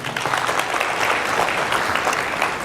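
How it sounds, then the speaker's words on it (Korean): Lecture audience in a convention hall breaks into sustained applause, a thick, even patter of many hands clapping throughout, fairly loud and unbroken. "좋으면 박수 쳐주세요"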